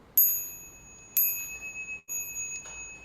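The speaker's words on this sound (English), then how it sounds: "And I'll ring the bell." A small ritual bell is struck three times before bowing, each a bright ringing tone that sustains and slowly fades, close and alone in a quiet room.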